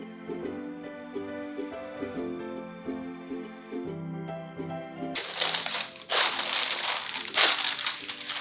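Parchment paper crinkles loudly in bursts in the second half as a chocolate Swiss roll cake is rolled up, following a stretch of soft tonal background music.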